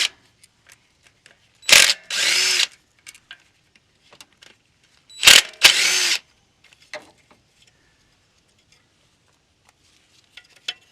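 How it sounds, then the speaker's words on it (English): A power drill runs in two short bursts about three seconds apart, spinning out the 10mm bolts that hold the ignition coil on a 2012-2016 Honda Civic. Quiet clicks and small handling noises fill the pauses. "we're just going to remove the 10mm bolts that are holding on the coil"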